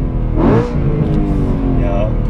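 A BMW M3 engine revs briefly, a close, loud rising whine over a steady idle rumble, with talking mixed in.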